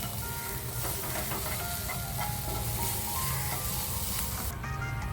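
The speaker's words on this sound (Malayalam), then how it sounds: "ഇതെല്ലാം ചേർത്ത് കൊടുത്ത് ഒന്നുകൂടി നന്നായിട്ട് വഴറ്റിയെടുക്കാം." Masala poori filling with kasuri methi and oregano sautés in a pan, a loud continuous sizzle and hiss with faint stirring scrapes underneath, close up and without pause.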